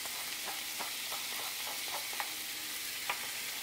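Ground meat mixed with onions, garlic, salt, black pepper and allspice is stirred in a pan for Bosnian burek, giving a steady low sizzle with soft scrapes and a few sharper spoon clicks. The sound is faint and close, with no talking.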